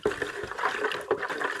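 Lukewarm water being stirred by hand with Epsom salt in a tub of about a gallon, giving a steady close sloshing and trickling with a few louder splashes, no talk.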